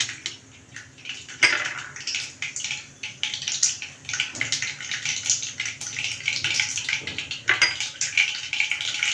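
Mustard seeds pop and crackle in hot cooking oil while a tomato pickle is being made. The dense, irregular crackling comes from a nearby pan and runs steadily throughout, with no one talking.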